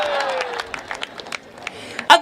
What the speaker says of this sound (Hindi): आप ऐसे ताली बजा रही हो जैसे आप आखिरी रोटी तवे पे डालने वाली हो।